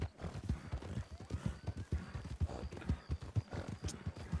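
Horse hooves gallop in Red Dead Redemption, a fast, rhythmic clip-clop of repeated close thuds that runs steadily through the whole stretch, with no talk over it.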